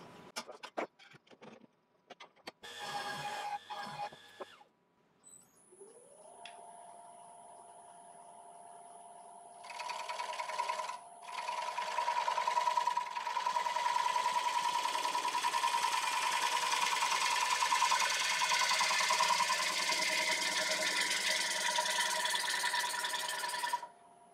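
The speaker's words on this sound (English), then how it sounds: "I'll just put a fresh edge on this bowl gouge" A bowl gouge is sharpened on a grinder in a woodturning shop: a few short scraping touches, then a long steady grinding hiss with a whining tone that runs loud and continuous to the end.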